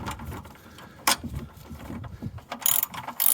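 A ratchet wrench tightening a part with irregular clicking pawl bursts and metallic knocks, close and moderately loud, with no voices.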